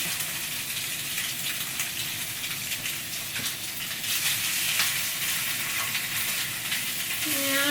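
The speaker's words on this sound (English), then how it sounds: "now I'm just going to add my tofu to the skillet here" Tofu hits a hot skillet and sizzles loudly, a dense, steady hissing fry that swells slightly toward the end, heard up close with no talking.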